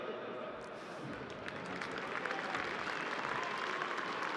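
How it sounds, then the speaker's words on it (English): Crowd applause after a WAFL grand final between Subiaco and South Fremantle, a broad wash of clapping and cheering that swells slightly partway through, heard at a distance. "please give a round of applause to Dylan Main"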